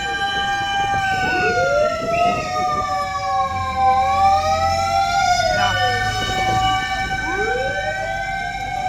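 A fire truck siren wails continuously at close range at a fire in Pilar, Las Piñas City, its rising and falling tones layered over engine rumble and occasional voices.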